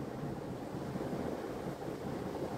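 Grated radish frying in hot white oil in a wok, a dense, steady sizzle and hiss that stays even and close throughout, with no voices.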